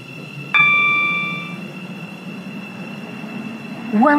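A Stepford Connect train in the Roblox game SCR gives a sudden metallic chime or bell at the start, and a soft steady rolling hum continues under it. A rising electric whine starts near the end.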